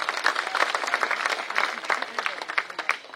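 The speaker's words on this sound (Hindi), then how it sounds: "ताली बजाओ" A crowd applauding at a political workers' meeting in Bhadohi, dense continuous clapping at a fairly close, steady level with a faint voice underneath.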